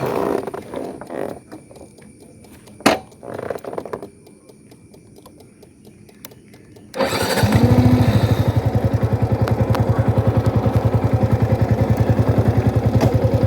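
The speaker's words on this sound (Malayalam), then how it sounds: "എന്തായാലും അത്യാവശ്യം ലൗഡായിട്ടുള്ളൊരു എക്സോസ്റ്റ് തന്നെയാണ് ഇത് തന്നേക്കുന്നത്" Loud exhaust of a Yamaha R15 V4 155cc sports motorcycle, starting up after a stretch of faint clatter and then running as a steady, close, throbbing idle for the rest of the clip.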